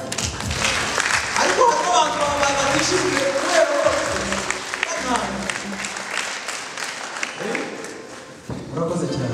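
Audience applause at a wedding gathering, a steady wash of clapping running beneath a man's amplified speech for most of the stretch.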